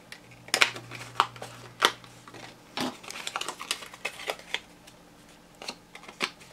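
A Polaroid-style paper frame is cut out in a quiet run of crisp, irregular snips and small rustles, close and fairly faint.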